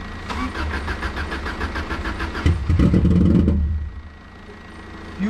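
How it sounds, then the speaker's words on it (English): A Subaru Impreza with a very bad misfire cranks rapidly, then catches and revs roughly for about a second before dropping back to an uneven idle. The sound is close and loud. "It's got a very bad misfire."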